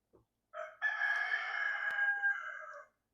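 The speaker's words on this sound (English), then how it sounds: "So if you just heard that rooster crowing," A single rooster crows once, loud and close, a long drawn-out call in a quiet setting with a brief faint sound just before it.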